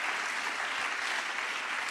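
A congregation claps hands in thanksgiving at a worship service, a dense continuous wash of applause from many people for a couple of seconds, no voices.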